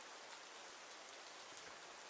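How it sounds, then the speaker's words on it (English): Endless pouring rain as a dense, even hiss of steady downpour, soft and continuous with no other sounds. "An endless rain pours down overhead."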